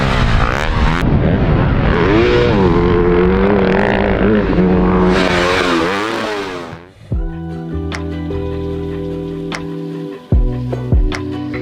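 A TM MX 300 dirt bike engine on a moto track revs hard and loud, sweeping up and down in pitch, then drops to a lumpy idle with a few sharp blips of the throttle.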